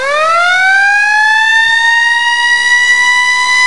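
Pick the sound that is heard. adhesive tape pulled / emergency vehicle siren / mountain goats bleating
emergency vehicle siren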